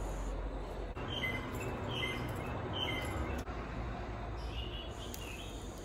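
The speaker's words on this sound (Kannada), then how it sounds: "ಬೆಳಿಗ್ಗೆ ಬೇಗ ಹಕ್ಕಿಗಳ ಸೌಂಡೆಲ್ಲ ಕೇಳ್ತಾ ಉಂಟು" Birds chirp and call in a backyard in the early morning, with short, faint repeated notes over a quiet, low outdoor hum.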